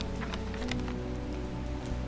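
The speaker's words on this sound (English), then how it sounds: "Does it ever stop raining in Undermere?" Steady rain falls throughout a moody scene in the video game Strange Horticulture, set in the town of Undermere, forming a constant patter at moderate level with a low ambient music bed beneath.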